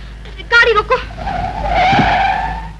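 A car skids and screeches to a halt in a 1949 Hindi film scene, a long tire squeal rising loudly after a few brief spoken words.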